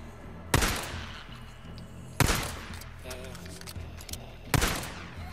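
Gunfire rings out in the post-apocalyptic video game Days Gone as three loud, sharp shots, spaced about two seconds apart, each leaving a short decaying ring, with faint game ambience between them.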